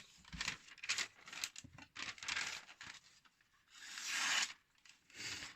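A freshly sharpened knife slicing through paper, a series of close, soft rasping swishes of varying length separated by brief pauses, with one longer stroke.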